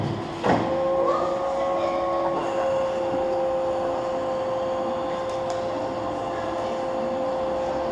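The nose heat shield of a Concorde at Duxford is lowered, with a sustained mechanical hydraulic whine holding a steady tone over a continuous background hum, plus a faint clunk near the start.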